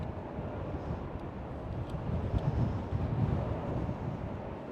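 Steady wind blowing across a microphone at Schiphol airport in Amsterdam, a constant low rumbling buffet with gusts swelling and easing throughout, no voices.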